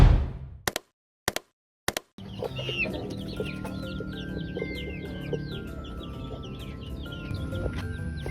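Rhode Island Red chicks, a batch of about fifty at a poultry farm, chirp continuously in a busy, overlapping chorus after a few brief knocks, with steady farm background noise throughout.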